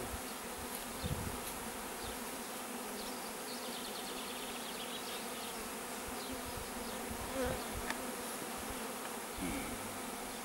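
A honeybee swarm being moved into a hive fills the air with a dense, steady buzz of many bees, close and continuous throughout with no talking.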